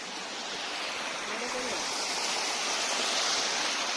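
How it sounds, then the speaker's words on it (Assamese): A small waterfall fed by a stream pours in a steady, close rush of falling water that holds even and continuous throughout. "ইমান ডাঙৰ ৱাটাৰফল নহয়, হ'লেও ইয়াত গা চা ধুব পাৰে"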